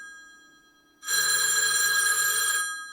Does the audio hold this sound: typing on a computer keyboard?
no